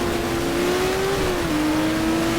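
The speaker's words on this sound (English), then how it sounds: "And I see a yellow Ferrari approaching" Yellow Ferrari race car in a GTR2 endurance race at Mexico City, engine holding a steady high drone as it approaches, rising slightly then settling at a lower pitch, continuous and fairly loud.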